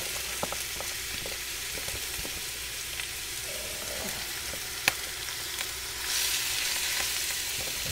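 Lobster and shrimp fry in butter in a cast iron pan, giving a steady close sizzle with scattered pops and crackles and one sharp clack; the hiss swells louder toward the end, with no talking.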